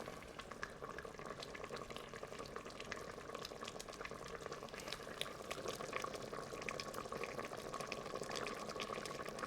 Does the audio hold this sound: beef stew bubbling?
yes